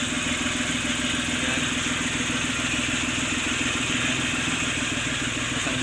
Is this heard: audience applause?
no